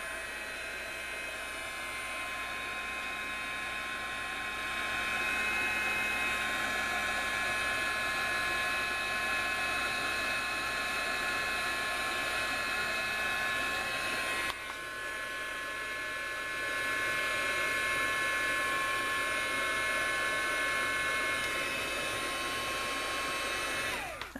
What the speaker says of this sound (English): Let's set this aside so I don't turn my heat gun on and it blow all over the place.